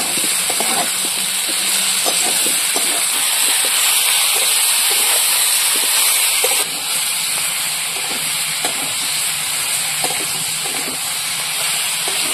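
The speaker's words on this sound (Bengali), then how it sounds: "এবার ভালো করে কষিয়ে নেব।" Kan magur fish curry with kochur mukhi sizzles loudly in a pan as it is sautéed, a continuous dense hiss with faint stirring knocks running beneath it.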